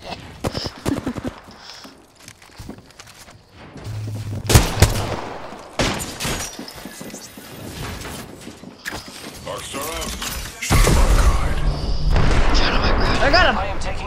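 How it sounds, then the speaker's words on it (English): Gunfire in an Apex Legends battle, with sharp bursts and shots scattered through the scene and a heavier stretch of firing near the end, mixed with game effects and voices. "I am taking fire, friends"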